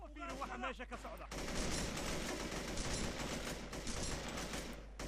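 Shotgun fire and dense gunfire erupt in the shooter video game Terrorist Takedown, set in a Mogadishu conflict, with a few sharp shots followed by a loud continuous barrage.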